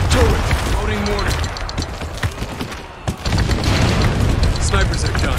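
Mortar fire pounding in the military shooter Spec Ops: The Line, a loud dense wash of booming blasts and crackling debris that barely lets up, with voices shouting over it.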